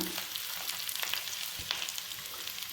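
Onions fry in hot oil for a sweet corn gravy, giving a soft, even sizzle with a few faint stirring ticks, close but fairly quiet and continuous, with no voices.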